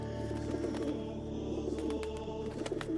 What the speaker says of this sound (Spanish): Unas palomas blancas